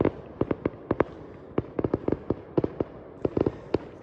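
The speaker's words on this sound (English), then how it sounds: "last 5-inch willow canister shell by Megaton" Megaton 5-inch willow canister shells burst and crackle outdoors in a rapid, irregular string of sharp pops and booms, loud and alone with no talk.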